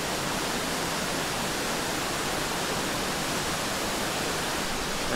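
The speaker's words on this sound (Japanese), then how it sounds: "これが千ヶ滝、すごいですね。" Sengataki waterfall in Yamanashi pours with a dense, continuous roar of falling water, loud and unbroken throughout and with no voices over it.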